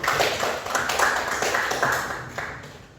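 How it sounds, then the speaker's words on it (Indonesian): A classroom audience claps together, a dense patter of hands that stays steady and fairly close before easing off toward the end. "Ya, baik, terima kasih, tepuk tangan"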